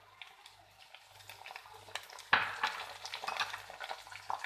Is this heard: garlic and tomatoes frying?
yes